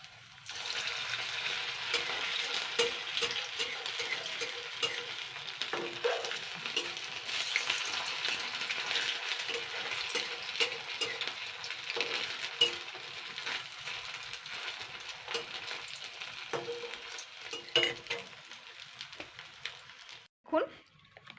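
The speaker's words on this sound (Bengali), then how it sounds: "এইবারে ভাজতে হবে, তাহলে ভেতরেগুলো ভালোভাবে ভাজা হবে।" Rice pakoras deep frying in oil for a Bengali snack, a steady dense sizzle and crackle running throughout at moderate level, with a brief clatter near the end.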